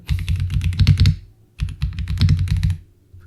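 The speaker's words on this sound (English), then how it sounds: "So let's try to type a prompt." Someone types a prompt on a computer keyboard in two quick bursts of close, dense key clatter separated by a short pause, with no talking.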